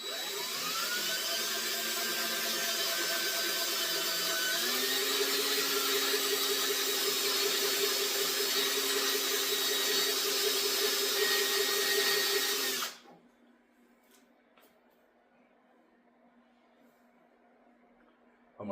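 Power drill running steadily at low speed, lapping a metal part for a stock refinishing and metalwork lab, set out of hammer mode; a loud continuous whine that shifts pitch partway, then cuts off abruptly into near silence.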